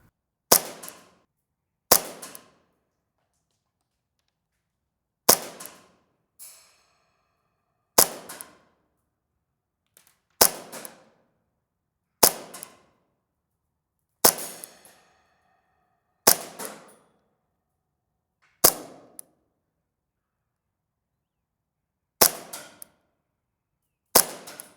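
A Novritsch airsoft pistol is test fired about a dozen times, each shot a sharp, close crack followed by a short metallic ring. The shots come singly or in quick pairs with pauses of silence between them.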